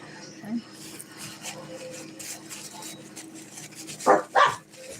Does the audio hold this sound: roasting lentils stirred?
no